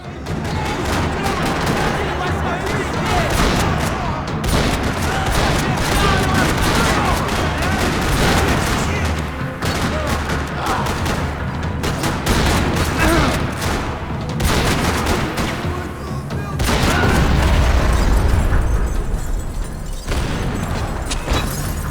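Gunfire rattling through a parking lot in the Max Payne 3 video game, with continuous loud bursts of automatic fire, sharp shots and occasional booms layered over game effects throughout.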